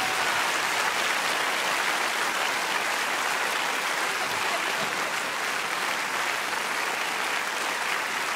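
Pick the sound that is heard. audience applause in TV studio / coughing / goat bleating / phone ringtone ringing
audience applause in TV studio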